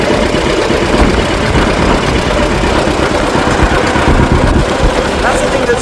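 Antique tractor engine running steadily while driving in fifth gear, a loud continuous low chugging drone buffeted by heavy wind noise outdoors.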